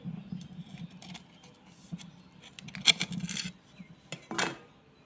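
A metal lid is lifted off a cooking pot, making soft clinks and a scrape with a few light metallic taps and jangles, close by and quiet, with no voices.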